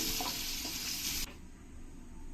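Hot oil sizzles loudly with a bright hiss for a moment, then drops off sharply to a quieter low crackle, as paneer and vegetables frying in a pan are stirred.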